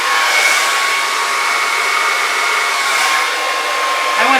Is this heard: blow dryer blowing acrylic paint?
yes